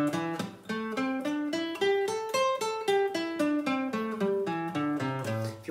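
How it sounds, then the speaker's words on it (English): A guitar plays a minor pentatonic scale across all six strings, a clear run of single plucked notes in an even rhythm, stepping down and then climbing back with no talking. "because even when you're going down all six strings, which will sound like this"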